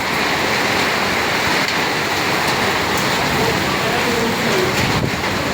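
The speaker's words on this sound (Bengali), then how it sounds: "অনেক বৃষ্টি পড়তেছে, অনেক দেখা যায়" A dense, steady roar of heavy rain in Qatar pours without a break, loud and close, with a few faint knocks underneath.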